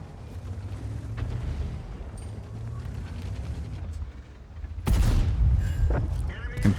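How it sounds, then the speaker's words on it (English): A tank cannon fires a high-explosive round in World of Tanks, aimed at a Scorpion G from a ShPTK-TVP 100. A loud, broad blast lands partway through over a steady low engine rumble. A voice talks across the clip. "Go for HE round and try and shoot this Scorpion G."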